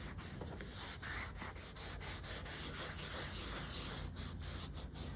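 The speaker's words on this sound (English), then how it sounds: "it's loose enough I can get my sandpaper down underneath it" Sandpaper rubbing by hand over a leather car seat being refinished, a steady close scratchy abrasion running continuously with slight rhythmic strokes throughout.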